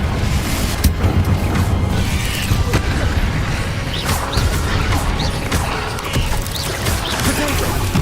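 Fire and blasting spells in a wizard video game, Confringo and Incendio, producing a continuous barrage of crashing booms, impacts and whooshes at high volume.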